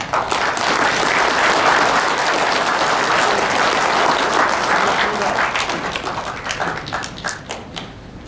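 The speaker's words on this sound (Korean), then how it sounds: "서정갑 국민행동본부장께서 여기 오셨는데 박수를 보내주시기 바랍니다." A lecture audience claps together in steady, dense applause that holds, then thins into scattered claps before fading near the end.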